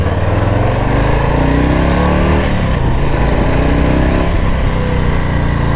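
A 2021 Harley-Davidson Low Rider S motorcycle with a Milwaukee M8 engine runs loud and close, its low rumble rising and falling through steady throttle changes with no voices.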